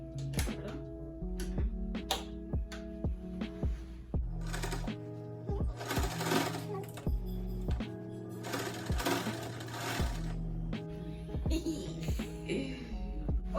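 A sewing machine stitches thrifted pants in steady rapid mechanical bursts, starting and stopping repeatedly with a whirring motor hum and clattering needle, close and fairly loud, no talking.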